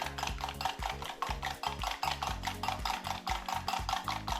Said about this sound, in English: we're going to whisk this up just till it's kind of frothy